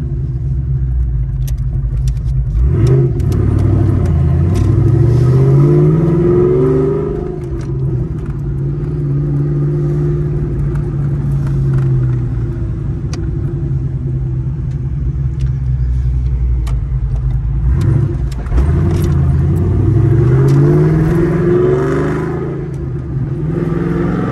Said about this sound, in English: Shifts really good. Man, that is smooth. I like the Magnum.